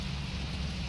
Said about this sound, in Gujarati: વરસાદ બરાબર ચાલુ છે,